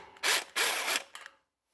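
A ratchet with an 8 mm socket, set to reverse, works a fastener on a Champion generator: two quick, close buzzy bursts of turning followed by a couple of faint clicks, then silence.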